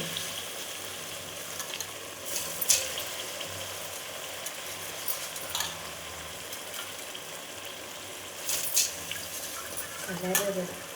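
A spoon stirs vangi baath mixture in a pan with a steady soft scraping and faint sizzle throughout, a few sharper clinks standing out near the start and end, with no talk.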